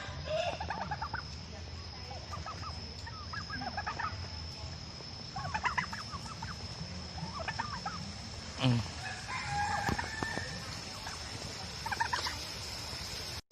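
Turkeys gobble in repeated rattling bursts every couple of seconds, moderately close, over a steady outdoor garden background at a coffee farm in Ubon Ratchathani, with faint voices.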